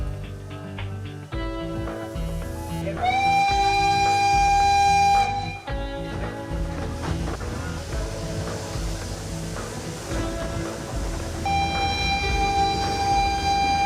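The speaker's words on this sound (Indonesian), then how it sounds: "Kereta buatan Jerman ini masih menggunakan bahan bakar kayu jati dan tenaga uap." Antique German steam train built in 1897, burning teak wood: long loud whistle blasts rise over a steady mechanical rumble and clanking, close and dominant with no talk.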